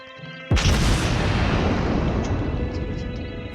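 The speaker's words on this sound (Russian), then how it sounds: "Попробуйте выстрелить осколочно-фугасным снарядом" A high-explosive shell is fired at a mock target ship in a naval video game: one sudden heavy boom that rolls into a long, loud, slowly fading rumble.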